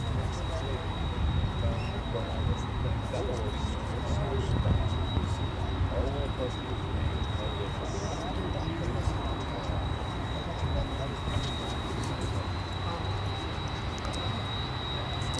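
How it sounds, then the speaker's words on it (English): A 24-year-old UPS MD-11 cargo jet arriving from Louisville and taxiing at Dallas-Fort Worth International Airport, a steady low engine rumble and whine that holds constant throughout, with people talking over it. "this is UPS Flight 5510 coming in from Louisville, Kentucky. It's an MD-11, 24 years of age"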